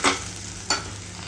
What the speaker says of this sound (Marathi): परतून घ्यायचं आहे.